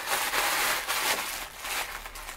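A mystery bag bought for ten pesos is unwrapped by hand with soft, continuous crinkling and rustling of plastic packaging, close up, with no talking.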